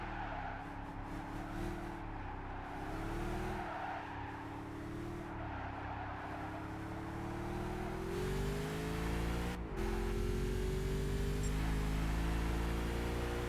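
Car engine in the racing video game Gran Turismo 5, a continuous revving drone that rises and dips with throttle, with a sharp burst near the end and tire squeal hinting at a spin, no talking.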